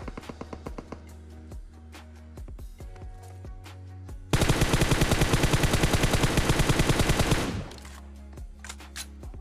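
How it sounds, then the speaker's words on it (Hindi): Gunshots in a PUBG-style battle royale video game: spaced single shots at first, then a loud, dense burst of rapid automatic fire for about three seconds, followed by a few more scattered shots. "तो मैं उसको यहाँ पे एक गोली मारता हूँ"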